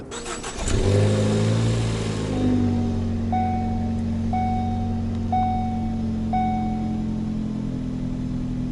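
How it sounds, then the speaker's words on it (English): A Ford Focus ST engine fitted with a new high-flow air filter cranks and catches with a loud surge, then settles into a steady idle while a chime beeps four times at even intervals. "So let's start it up and get a little engine sound."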